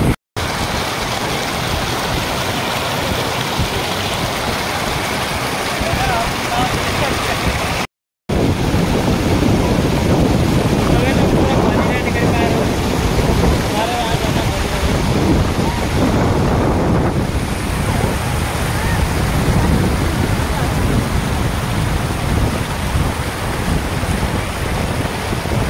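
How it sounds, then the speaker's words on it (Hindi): Fast floodwater rushes over a line of sandbags set to protect a village road during a flood. A loud, continuous roar of churning water dominates, with heavy wind buffeting on the microphone and a brief cut partway through. "बोरियों के ऊपर से बहुत तेज पानी निकल रहा है।"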